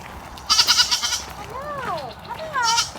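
Backyard farm goats bleat in several wavering, quavering calls, one burst of rapid pulsed bleats followed by two drawn-out descending cries, close and fairly loud.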